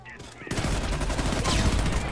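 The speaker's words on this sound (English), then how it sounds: "I didn't expect that to be a turret." Turret gunfire in Homefront breaks out abruptly after a brief quieter moment, becoming a loud, dense burst of rapid automatic shots that continues unbroken to the end.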